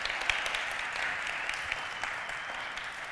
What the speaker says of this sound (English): maybe an applause for the main MC of the day